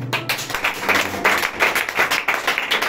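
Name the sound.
congregation applauding for the Lord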